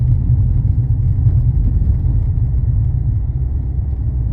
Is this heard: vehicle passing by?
yes